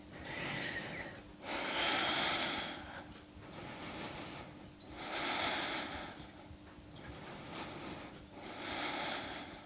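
Slow, deep breathing during a yoga stretching class with a strap, held in a pose. Three long rhythmic breaths in and out, close and fairly loud, with no other sound.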